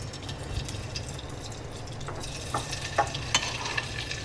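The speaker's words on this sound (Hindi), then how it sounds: "फ्राई पैन में है ना 1 टीस्पून के जितना अपन बटर डालेंगे।" Butter sizzling in a frying pan while making chicken makhni, a steady low hiss with a few soft pops and faint clinks near the end, close and fairly quiet with no talking.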